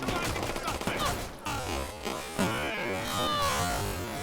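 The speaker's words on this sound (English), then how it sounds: "they finally decided to use their gun" Rapid gunfire crackles in Watch Dogs 2 as a city NPC finally opens fire, dense bursts blending into a buzzing, chaotic wash over game music and ambient noise.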